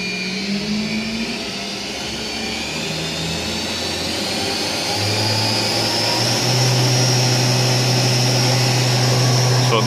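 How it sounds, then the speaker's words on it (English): A vertical machining center's spindle runs under a CNC program at several thousand RPM, a steady high whine with a tone that steps up in pitch partway through and grows slightly louder, constant and close throughout. "S5000M3, which is 5000 RPM for speed, and M3 is spindle clockwise"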